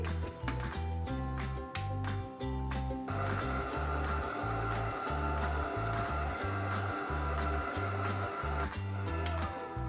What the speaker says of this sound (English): Now we will mix this in the stand mixer.